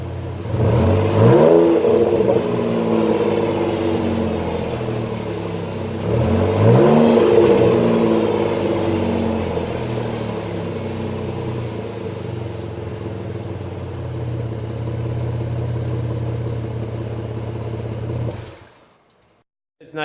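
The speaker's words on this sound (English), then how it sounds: "I didn't want to rev her past 2K, so I didn't rev her that high." A project car's engine revs moderately through its exhaust muffler, two rising-and-falling rev swells followed by a steady idle rumble, close and loud, ending in a sudden cutoff near the end.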